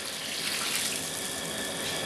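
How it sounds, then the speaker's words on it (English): Water poured steadily from a tap into a bear bait mixture of sugar, popcorn and cherry Kool-Aid, a close, continuous hissing gush lasting about two seconds with no talk. "We're also going to add our water to mix in with that."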